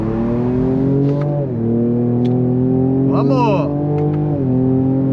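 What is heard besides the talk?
Ford Ranger Raptor pickup accelerating from standstill in 4x2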